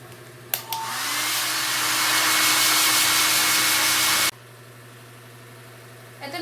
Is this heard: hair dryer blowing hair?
yes